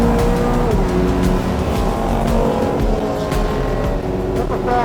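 An Ultima race car on a circuit roars past amid continuous loud engine noise, with tire squeal and the drone of other cars, heard from close by with no talk.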